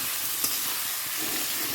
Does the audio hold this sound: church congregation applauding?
no